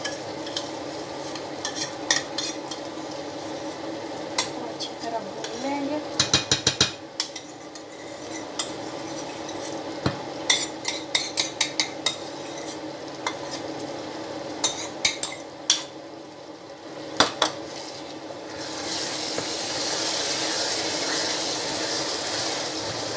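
Minced meat with yogurt fries and is stirred in a pan, a steady low sizzle punctuated by repeated metallic scrapes and clanks of a spoon against the pot, with the hiss swelling louder near the end.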